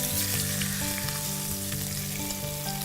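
A thick salmon fillet pan-frying skin side down, a loud, dense, steady sizzle and crackle close to the pan, overlaid by a low tonal hum from the kitchen, with no one talking.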